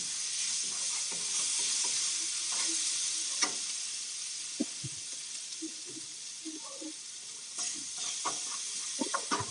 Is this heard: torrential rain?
no